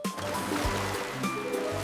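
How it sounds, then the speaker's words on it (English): Elephants wading across a river, churning water with continuous splashing and gurgling, close and busy throughout. "Wow, it's splashing!"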